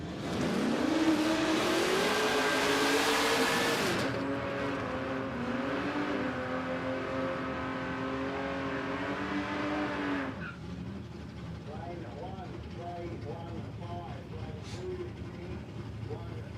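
Drag racing cars at Palmyra Raceway roar at full throttle, a loud engine howl climbing through gears, then easing to a steadier drone before a second, quieter car idles and revs nearby under announcer talk.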